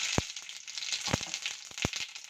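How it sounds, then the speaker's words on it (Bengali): Dried red chilli and garam masala spices crackle and sizzle in hot oil in a pan, a steady fizzing hiss broken by a few sharp pops, close and fairly quiet. "দিয়ে দিলাম সব গরম মশলাগুলো"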